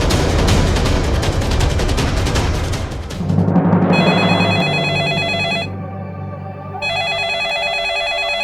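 A landline telephone rings loudly and repeatedly in bursts over a dense background soundtrack, with a brief pause between rings.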